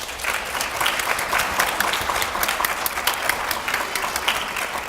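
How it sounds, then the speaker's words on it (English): A room full of people at a chapter chartering and induction ceremony gives a sustained round of applause, dense, even clapping without talk. "Let us give them a round of applause."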